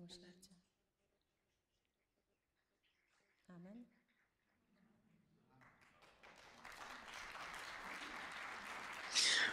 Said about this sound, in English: This is the clap for the Holy Spirit.